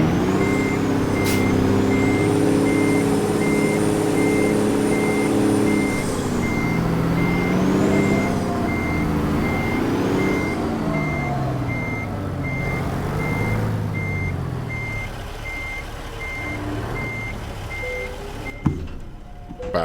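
Steady repeating reversing beeps from a truck backing into a trailer in American Truck Simulator, sounding over a loud engine rumble with an air-brake hiss near the end; no talking.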